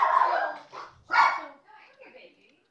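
Dogs bark close by in a few sharp, loud yaps with short gaps between them, and the last ones trail off more faintly.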